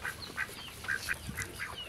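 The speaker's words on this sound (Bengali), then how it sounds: "দেখেন হাঁস" Ducks in a farmyard give a string of short nasal quacks, several calls in quick succession at moderate distance.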